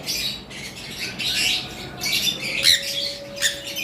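Caged yellow-sided pineapple conures, bonded breeding pairs, give bursts of shrill squawks and chirps, several calls spread over a few seconds against steady background noise, fairly close.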